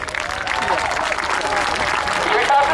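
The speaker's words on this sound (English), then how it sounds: "Come on, start giving them applause" An air display crowd applauds a flying display team, the clapping steady and mid-level beneath a public-address commentator talking over it, with faint aircraft tones in the background.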